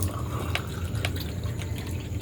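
Water is poured into a container in a short burst of close splashes and drips, with a steady low hum underneath.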